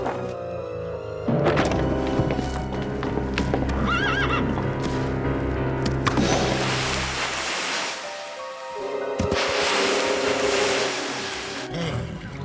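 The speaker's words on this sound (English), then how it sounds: "now we get attacked by a crazy horse" A horse in a Silver Brumby cartoon neighs and whinnies loudly over a busy music score, with galloping hoof clip-clop and a burst of splashing surf-like noise later on.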